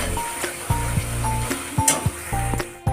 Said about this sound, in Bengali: এখানে আমার মশলাটা দেখো কষানো হয়ে গেছে, সাইড দিয়ে এরকম তেল কাটছে